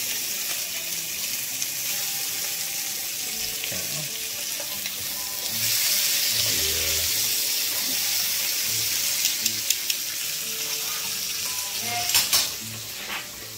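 Bacon frying in a pan, a steady close sizzle and crackle running throughout, with occasional clinks and soft kitchen noises on top and no speech.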